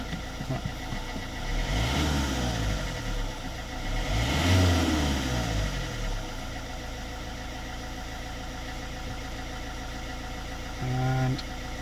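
A car engine idles roughly, with an uneven low throb that swells and wavers in the first half before settling into a steadier running hum, heard up close with a brief tonal blip near the end.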